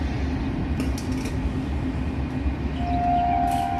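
Train passing on a railway line near a village, a steady loud rumble with faint clanks and a thin tonal squeal or whistle toward the end.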